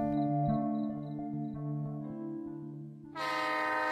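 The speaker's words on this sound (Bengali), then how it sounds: "শিয়ালদা স্টেশন থেকে লালগোলা প্যাসেঞ্জার ছাড়ল ঠিক 7:30টায়" A Lalgola passenger train pulls out of Sealdah station as a drama sound effect, its horn blaring in long sustained tones that waver, then a sharper, brighter horn blast cuts in near the end.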